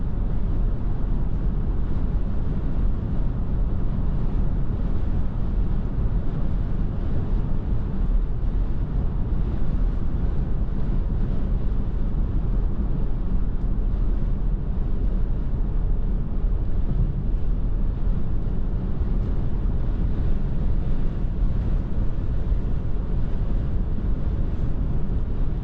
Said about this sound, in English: here on the highway for a little bit. Definitely hear that wind.